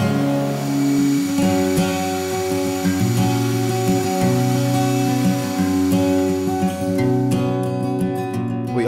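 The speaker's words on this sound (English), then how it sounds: "the aluminum body, which is milled from solid blocks of aluminum" A milling machine cutting a solid aluminum block, heard as a steady, loud, tonal whine with a constant hum that continues without a break.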